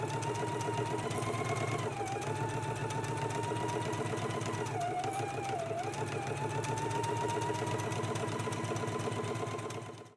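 A sewing machine hums steadily and continuously at close range, stitching around a pocket on a Know Me ME2132 jacket, its motor pitch dipping slightly a couple of times.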